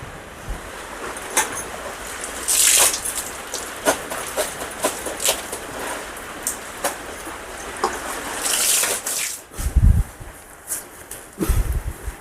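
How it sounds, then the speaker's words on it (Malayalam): Heavy rain pours outside a house in a short film, making a dense, steady roar with gusty surges and scattered sharp splashes, and it goes on for over twelve seconds without talk. "എന്ത് മഴ!"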